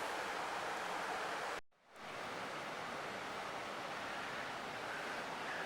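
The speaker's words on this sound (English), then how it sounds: "You can hear the water flowing underneath these rocks." A steady, broad rushing of water flowing unseen beneath rocks in France fills the scene, briefly cutting out for a moment before continuing unchanged.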